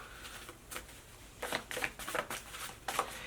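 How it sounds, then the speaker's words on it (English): A deck of tarot cards shuffled by hand in a series of crisp riffling bursts, several quick flurries close up separated by short pauses, with no talking. "It's so hard to shuffle these."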